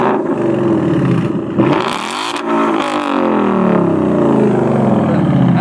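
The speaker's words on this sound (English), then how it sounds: "Let's hear that exhaust" A Ford Mustang GT engine revs hard up close, the exhaust rising to a loud roar then settling back into a throaty idle rumble.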